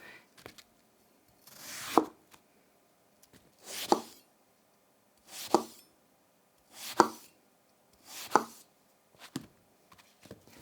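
A custom HandFab MK-1 kitchen knife slices eggplant into thick planks on a cutting board, five or six crisp, evenly spaced cuts about every one and a half seconds, close and clear with quiet pauses between.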